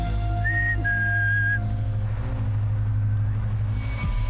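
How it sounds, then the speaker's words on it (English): Whistling from the woods: two short, clear tonal whistles, the second slightly longer, over a steady low rumble, fairly distinct against the background. "someone or something started whistling back to us from the woods"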